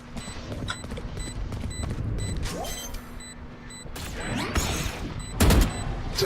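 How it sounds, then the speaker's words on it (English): A flashbang grenade goes off in a video game shooter round as a sharp, heavy burst near the end. Before it come scattered clicks, mechanical clatter and rapid gunfire. "Flashbang."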